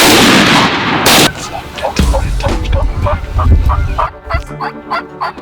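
A loud gunshot blast from a youth turkey hunt rings out, followed by gobbling and clucking turkey calls with other fowl noises over the rest of the clip.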